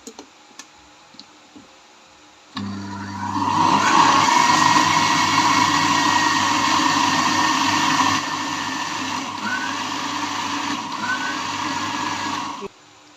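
An electric beater whirs steadily through flour and milk for a chocolate cake batter, starting abruptly after a few light clicks and running loud and even for about ten seconds before cutting off.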